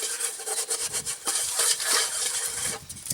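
A pan is scrubbed with sand outdoors to clear hardened tallow, giving close, rough gritty rasping strokes in an uneven rhythm, with short pauses between strokes.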